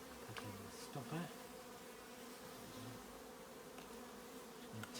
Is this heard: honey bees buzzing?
yes